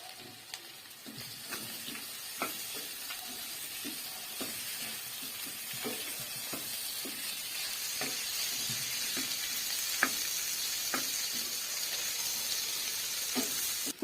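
Potatoes with turmeric and chilli fry in a pan for aloo jeera, giving a soft continuous sizzle and hiss, with occasional light clicks of stirring, fairly faint and steady throughout.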